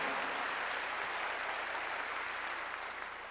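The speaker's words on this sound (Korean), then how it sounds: "박수 치라 이게요." A church congregation claps together during a sermon, a dense, even wash of many hands sustained throughout without spoken words.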